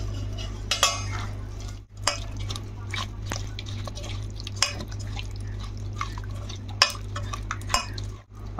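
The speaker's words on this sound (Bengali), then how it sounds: "এখন ভালো করে মাছগুলোকে মেখে নেব সব দিয়ে।" Fish being mixed by hand in a bowl with slit green chillies and spices, producing close wet squelching and clinking against the dish, irregular soft taps and stirring noises over a low hum.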